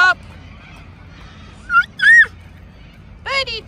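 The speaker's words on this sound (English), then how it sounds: "Birdies and duckies." Geese and ducks honk at a park lake in a few sharp, separate calls that stand out clearly over a quiet background.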